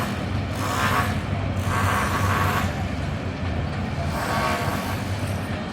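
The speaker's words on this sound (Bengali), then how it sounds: "ওই যে ট্রেন যায়" A train passing some way off from a rooftop garden, a steady low rumble with rhythmic rolling and clattering surges, no talk.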